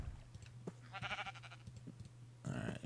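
Sheep bleating in the Minecraft video game, a couple of short wavering bleats heard over a low background hum with some faint clicking nearby.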